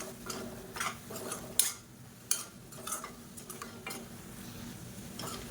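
Chopped vegetables for radish egg rice cook in a pan over medium heat, with a faint background sizzle under repeated light scrapes and taps of a spoon stirring.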